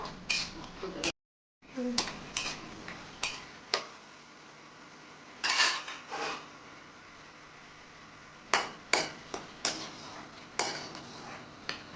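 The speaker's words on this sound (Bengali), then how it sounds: "বাদামটাকে ভালো করে নাড়াচাড়া করে ভেজে নেবো" Raw peanuts stirred and fried in hot oil in a wok for Bengali-style chira pulao, with a string of sharp spatula scrapes and clatters against the pan over a low frying background.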